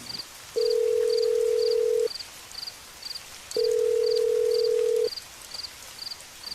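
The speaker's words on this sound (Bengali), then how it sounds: "প্রতিবারই ফোনটা বেজে বেজে কেটে গেল।" A phone call rings out unanswered: a steady electronic ringback tone sounds in two long bursts about 1.5 seconds each, separated by pauses, over a faint ticking background.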